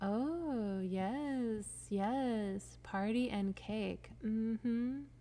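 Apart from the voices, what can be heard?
No everyday noises stand out.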